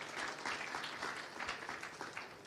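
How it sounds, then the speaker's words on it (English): An audience at a symposium gives a brief, steady round of clapping, a dense patter of many hands heard at a moderate distance. "So please, one warm round of applause for Jessie."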